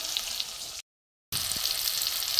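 Ground spices sautéing in a hot pan for a cauliflower dish, a steady bright sizzle that cuts out briefly and then returns just as loud.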